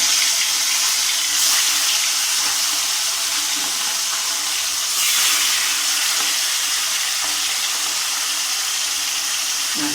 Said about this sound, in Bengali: মাছগুলোকে একটু ভেজে নিই।